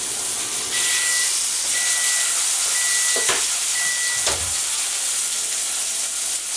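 An egg sizzles in a hot pan for a Hawaiian loco moco, a steady loud hiss with crackling that runs on without a break, alone with no voices.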